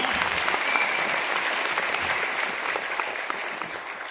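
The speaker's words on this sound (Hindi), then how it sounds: "ताली बजा के उसको देखो।" An auditorium audience claps steadily throughout, a dense, loud, continuous wash of applause with no pauses.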